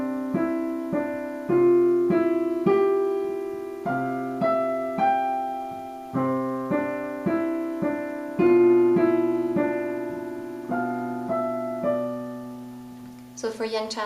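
Simple piano melody played over a single repeated low note in the left hand, notes struck and left to ring and fade, close and clear with no talking.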